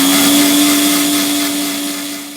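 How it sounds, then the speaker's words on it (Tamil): An electric mixer grinder runs at full speed while blending oil into homemade mayonnaise. The loud, steady motor whine is close and alone, easing slightly in level toward the end. "இப்போ இந்த ஆயிலை கொஞ்சம் கொஞ்சமாக மிக்ஸியில் ஊற்றி அரைச்சிக்கலாம்"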